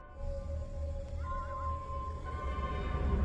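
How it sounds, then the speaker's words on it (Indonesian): A horse whinnies from outside, a wavering neigh heard faintly over low rumbling ambience and a sustained eerie tone in a horror story narration. "tiba-tiba sayup-sayup terdengar suara kuda meringkih dari luar"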